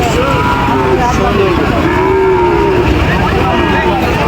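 A cow moos in long, drawn-out calls at a busy cattle market in Joypurhat, Bangladesh, loud and close over a constant crowd murmur.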